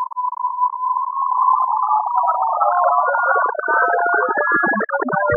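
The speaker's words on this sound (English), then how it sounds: "In granular synthesis, you can create dense clouds of sound by adding together hundreds of extremely short-duration," Granular synthesis cloud from a Kyma synthesizer built from enveloped sine waves, starting as a single steady pure tone that gradually spreads into a dense shimmering cluster of short beeping grains scattering up and down, bright and electronic, with no voices.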